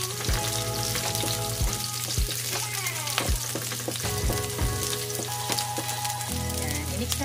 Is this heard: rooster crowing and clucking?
no